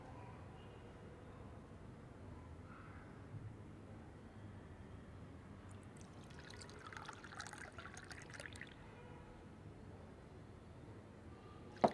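Liquid being poured while a meal is served, a soft trickling stream from about six to nine seconds over a low room rumble.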